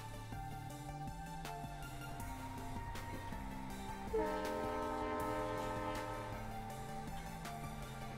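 A train horn sounds repeatedly, its chord stepping between pitches over a low rail rumble, heard faintly and at a distance throughout.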